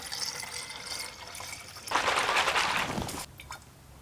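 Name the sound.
water poured into the car's cooling system tank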